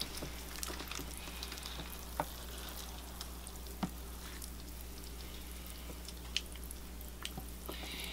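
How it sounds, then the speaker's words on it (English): Water poured onto a bonsai landscape of coarse Mars-like soil and rocks gives a steady soft hiss and trickle, with a few sharp drips and splashes scattered through it over a low background hum. "I'm giving the Mars landscape a better watering because the particle sizes are so large."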